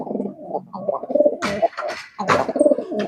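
Competition pigeons cooing up close, a run of loud throaty rolling coos with a few sharper wingy bursts, continuous over about three seconds with no voices.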